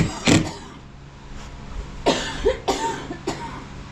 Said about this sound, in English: This is my allergy cough from living out here